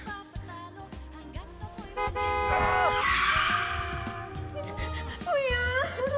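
A car with failed brakes skids with long, wavering tire squeals that rise and fall over a running engine, the screech swelling loudest midway and returning in sharp bends near the end.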